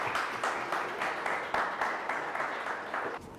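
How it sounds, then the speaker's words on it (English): Audience applause for an entrepreneur at a startup talk event, a steady wash of clapping from a moderately sized crowd, fairly even throughout with slight swells and a drop near the end. "Can we have a round of applause for him?"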